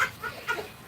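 A chicken clucks in a few soft, short calls, faint against a background hiss.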